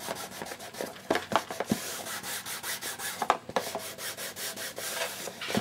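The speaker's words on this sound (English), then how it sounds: "Take some distressing ink, and I'm going to distress all these edges" Sponge or ink applicator dabbed and rubbed along paper edges with distressing ink for an easel calendar, a run of close, soft scrubbing strokes in quick uneven bursts, no talking.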